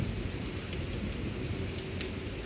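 Steady rain pours down during a summer thunderstorm in a drought, a dense even hiss of drops on surfaces that runs unbroken the whole time, close and moderately loud, with no voices.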